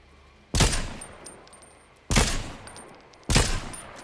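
Gunfire in the video game Fortnite: three loud, sharp bursts of shots spaced about a second and a half apart, each trailing off quickly, with no talk over them.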